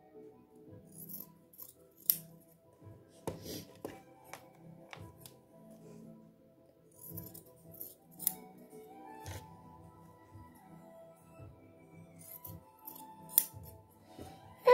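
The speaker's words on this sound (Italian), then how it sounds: "adesso con la forbice andiamo a rifilare gli angoli, quindi a togliere la parte in eccedenza" Scissors snipping away the excess fabric at the corners of a small sewn tissue-holder sofa, several crisp, close cuts spaced out over quiet handling noises, with no speech.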